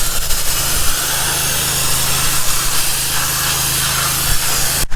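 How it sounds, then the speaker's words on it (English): A pressure washer fitted for wet sandblasting, drawing sand through a tube and out a special nozzle, makes a loud, steady, close hiss with an underlying motor hum that runs throughout. "this way I can show you how this pressure washer works"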